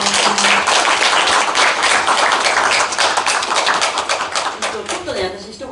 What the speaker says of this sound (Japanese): 皆さん、盛大な拍手をお願いします。